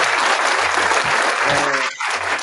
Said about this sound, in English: Let me give myself a round of applause for that.